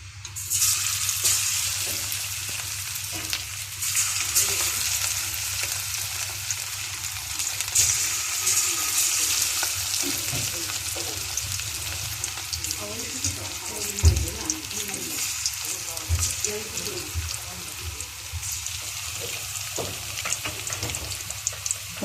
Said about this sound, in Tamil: இப்போ வந்து நான் ஆயிலில் ஃப்ரை பண்ண போகிறேன்